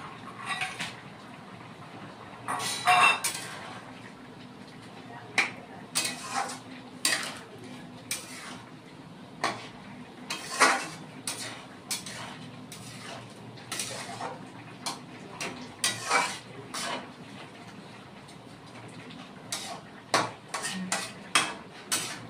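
Fried lentil dumplings go into a simmering pumpkin-stem curry, marked by scattered clinks and scrapes of a spoon against the pot over a quiet background, in irregular bursts.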